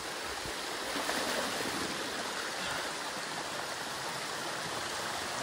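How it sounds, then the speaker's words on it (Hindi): Fast, rushing water pours steadily in a broad, constant roar close by, like a strong waterfall stream in Mirza, with no voices. "खतरनाक फ्लो है पानी का"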